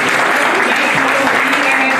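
A burst of loud, close applause from an audience at a Brussels conclave closing ceremony as an honoree stands, dense and even throughout.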